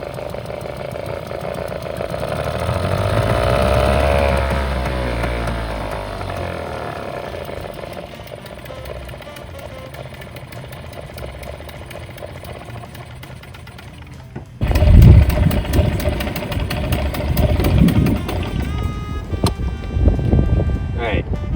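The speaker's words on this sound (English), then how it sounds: "Alright, so it's not idling very well." A 35-year-old diesel engine idles roughly, a mid-pitched uneven chugging that swells early then settles, joined later by louder clattering and knocking; a person talks over part of it.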